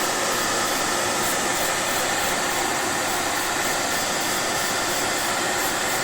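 A spray gun lightly misting paint onto a restored Jaguar XK8 steering wheel, giving a steady, loud airy hiss that runs unbroken throughout without any talk.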